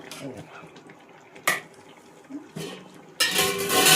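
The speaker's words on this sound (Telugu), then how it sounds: "చూడండి ఇగో రైస్ అయితే వేసేస్తున్నామా" Cooked rice tipped into a chicken biryani pot in a home kitchen, with scattered clinks and scrapes of a spoon against the pot, a brief bright rush near the middle and a sustained hissy pour toward the end, close by.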